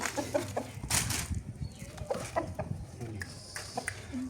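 An Indian game crossbreed rooster (Bangkok × Brazil) clucks in short, uneven bursts close by, with rustling and handling noises between the calls.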